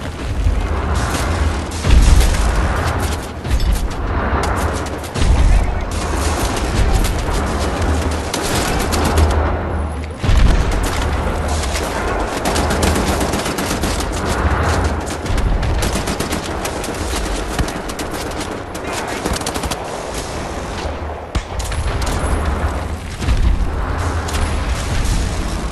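Constant loud gunfire and heavy booming explosions from artillery fire in the shooter Wolfenstein: The New Order, with dense bursts and thuds continuing throughout and no talking.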